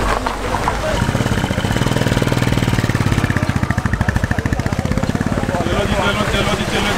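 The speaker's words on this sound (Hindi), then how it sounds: "अब निकल रही है गाड़ी आराम से," A Kia Seltos engine pulls steadily through water on a mountain road on a Ladakh trip, a continuous rough running drone with a rhythmic low pulsing, close and loud throughout.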